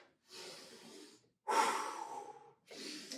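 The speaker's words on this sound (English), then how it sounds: "In through the nose, out through the belly." Heavy breathing during a total body conditioning workout: three long, loud, close breaths, alternating between inhales and exhales with short pauses between them, and no talking.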